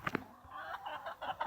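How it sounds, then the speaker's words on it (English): Pekin meat ducks calling, a few short nasal quacks and squawks close by, with brief overlapping calls across a second and a half and no talk. "are our Pekins. They're a kind of meat duck."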